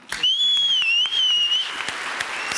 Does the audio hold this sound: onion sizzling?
no